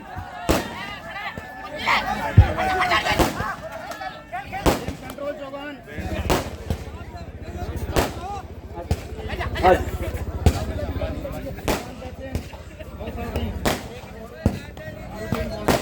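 Fireworks burst at an outdoor kabaddi semifinal match, sharp cracks and bangs popping irregularly, some near and loud, others fainter, under ongoing commentary and crowd noise.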